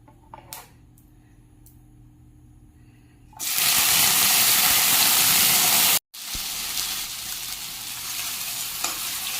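Elephant apple pieces go into hot oil with spluttered mustard seeds, and a loud, steady sizzle suddenly bursts up after a quiet start. The frying hiss keeps going, broken by one short gap, with stirring and no talk.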